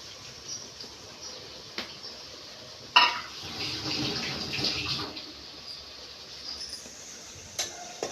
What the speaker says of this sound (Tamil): இப்போ நம்ம புளி ஊற்றிடலாம்